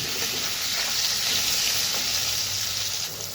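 A constant, close sizzle of potatoes and pointed gourd frying in oil with salt and turmeric fills the whole stretch, hissing evenly with soft crackles throughout.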